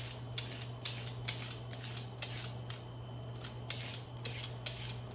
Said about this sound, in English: I'm gonna peel a carrot for him